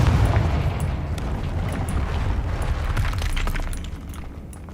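A Confringo explosive spell goes off in Hogwarts Legacy, a loud booming blast with crackling, shattering debris that rolls on for several seconds before easing slightly at the end.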